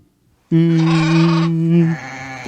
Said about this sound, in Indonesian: Ternyata ini adalah domba adik-adik.